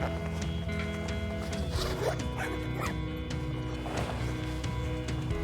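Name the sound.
unzipping removable liner of leather motorbike jacket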